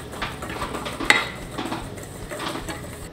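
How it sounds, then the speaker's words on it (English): A spoon stirs powdered pectin mixture in a bowl, soft repeated scraping strokes with a light clink of utensil against the bowl, close and quiet. "Stir these together and set it aside."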